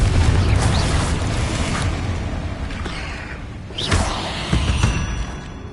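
A Confringo spell explosion in Hogwarts Legacy, heard as a rumbling boom that fades, then a whooshing burst and a further thud or two later, moderately loud with no talking.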